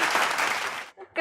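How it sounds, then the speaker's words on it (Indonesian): Studio audience applause during an Indonesian health talk show about pharmacists, a dense burst of clapping that is fairly loud and then cuts off abruptly, with a short trace of sound afterward. "tepuk tangan dong"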